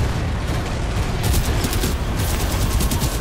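Machine gun fire in the PS4 shooter Titanfall 2: loud, rapid, continuous bursts with booming impacts, sustained for the whole stretch and not overlaid by speech.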